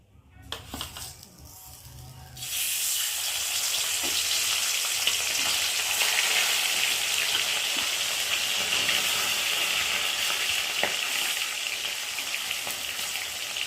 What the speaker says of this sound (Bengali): আমি এই যে তেলাপিয়া মাছ, নুন, হলুদ, লঙ্কা মাখিয়ে রেখেছি, একে একে মাছটাকে দিয়ে ভেজে নেব